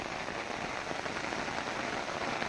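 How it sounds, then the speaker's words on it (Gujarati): Heavy rain pours steadily over village fields, a dense, even hiss of falling water that fills the whole stretch with no pauses and no voices. "બહુ વરસે છે વરસાદ"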